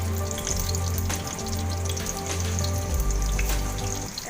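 A bay leaf sizzles in hot oil for a paneer butter masala, giving a loud, continuous frying hiss with a steady low hum underneath throughout.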